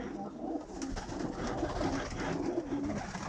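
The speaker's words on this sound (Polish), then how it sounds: "Przerzucone gołąbki do wojlery" Pigeons coo softly and repeatedly over a low rumbling background, several birds murmuring close by in an enclosed aviary.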